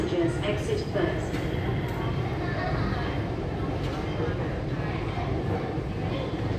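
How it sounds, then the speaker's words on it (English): An MTR SP1900 metro train rumbles low and steady through Tin Shui Wai Station, a constant heavy roar with faint clanks, and voices murmuring nearby. "The train to Wukaisha is arriving."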